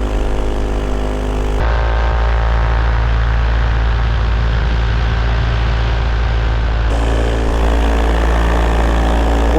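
Homemade aircraft propellers spinning in flight give a loud, steady, close buzzing drone whose tone shifts slightly midway, running without pause throughout.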